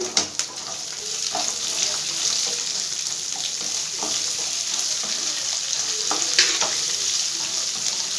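Chopped onion frying in a pan for poha gives a steady, close sizzle, with occasional scrapes and light clicks from stirring throughout.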